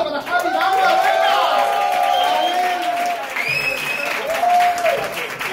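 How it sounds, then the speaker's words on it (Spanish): A live show audience in Spain applauds and cheers for Javi, with loud sustained clapping and crowd noise mixed with whooping, tonal voices and other chatter on top. "ese aplauso para Javi, vamos, venga"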